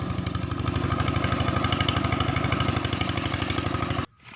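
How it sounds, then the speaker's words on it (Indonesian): The engine of a homemade portable circular-blade wood sawmill chugs in a steady rapid rhythm at moderate loudness, close by, then cuts off abruptly near the end. "Mesin belah ini menggunakan mata bulat atau piringan bulat"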